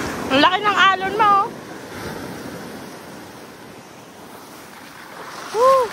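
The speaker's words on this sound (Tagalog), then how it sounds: "Ang laki ng alon mo." Sea waves surge and wash along a lively shoreline during a beach vacation, a steady broad roar of surf and wind under brief voices near the start and end.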